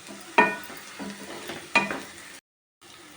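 Snake gourd frying in a pan gives a steady soft sizzle, with two sharp clinks from stirring. The sizzle drops out briefly near the end.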